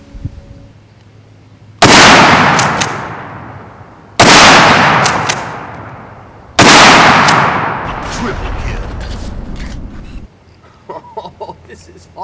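Three loud, sharp booms from a Mossberg 590 Shockwave shotgun firing slugs, each blast followed by a long decaying echo about two seconds apart, then quieter handling clatter.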